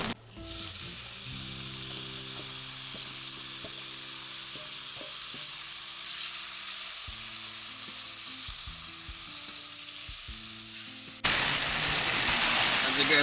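Ackee frying in browned butter outdoors gives a steady, loud sizzle throughout, with low voices talking underneath and the frying growing brighter and louder near the end.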